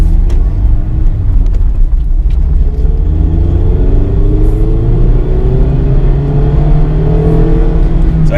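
Mazda MX-5 Miata RF ND Club roadster engine with 155 horsepower, heard from inside while driving, a steady loud drone with rising tones as it pulls through the gears, no talking.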